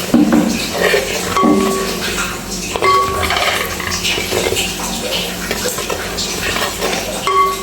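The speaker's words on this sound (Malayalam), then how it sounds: "മുളക് പൊടി ചേർത്തതിന് ശേഷം ഒന്ന് ഇളക്കി കൊടുക്കാം." Chilli powder, Kashmiri chilli, being stirred into soybean pickle in a pan, with scraping and light clinks of a spoon against metal, close by and steady, with no speech.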